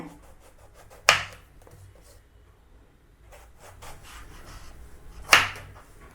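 A knife slices off the two ends of a large brinjal on a board, making two sharp, close, crisp cuts a few seconds apart with quiet rustling in between.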